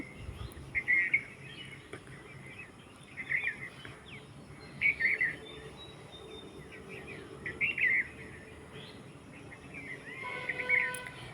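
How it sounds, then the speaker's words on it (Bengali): Bright bird chirps repeat in short bursts every couple of seconds over a quiet, faintly humming background, moderately close, with no talking. "পাখি ডাকছে অনেক"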